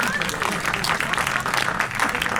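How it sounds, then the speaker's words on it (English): Brief burst of audience applause for a named person at a talk about Shakespeare names, a dense, lively patter of clapping with faint crowd murmur beneath. "Applause for Margaret,"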